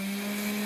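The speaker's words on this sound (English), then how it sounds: "basically just grinding that plastic down until you get a hole" A rotary tool grinding down a plastic helmet face plate, a steady high-pitched whine held for a split second.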